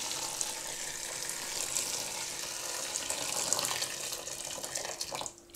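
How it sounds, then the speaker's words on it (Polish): Hot water from a kettle pours over Swedish whitebeam (rowan) berries in a pot, a continuous bright splashing hiss with bubbly patter that ends abruptly near the close. "Jarząb szwedzki zalewamy gorącą wodą z czajnika."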